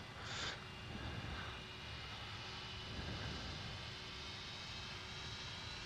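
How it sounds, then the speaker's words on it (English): Simulated MD-80 with Pratt & Whitney JT8D jet engines heard through an open cockpit window in a flight simulator: a steady broadband engine roar at moderate level, with no talking. "Listen to that engine."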